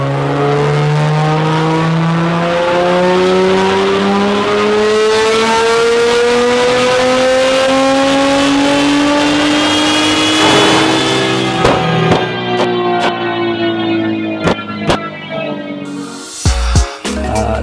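A tuned car with an ETS 35 turbo on a 3.8 engine revs up in a long, rising sustained pull, loud and close, then cuts off into sharp pops and bangs before a final brief burst.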